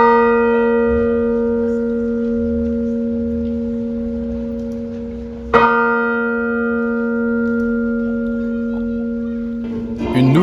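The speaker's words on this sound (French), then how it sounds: "Les cloches qui avaient été fondues à Annecy ont été bénies ce dimanche 19 mars par Monseigneur Luc Crépy" Newly blessed church bells, cast in Annecy for the future Saint-Joseph le Bienveillant church in the diocese of Versailles, ring with a loud, sustained humming tone that is struck again midway and keeps resonating.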